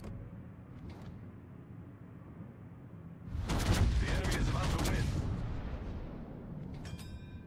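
Naval guns fire in World of Warships ranked battle from a Tier 7 Soviet battleship Sinop, a loud rolling volley of booms swelling mid-clip over a low rumble, with a voice speaking.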